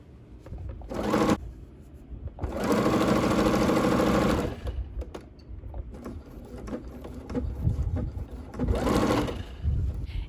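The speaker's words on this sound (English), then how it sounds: "I'm just sewing them together with a 1/4 inch seam" A sewing machine joins denim strips with a quarter-inch seam in navy thread, whirring in several bursts of varying length with brief pauses between runs.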